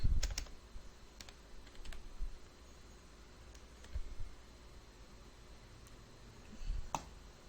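Quiet computer keyboard typing: scattered light key clicks in small bursts against a faint steady hiss, with no voices.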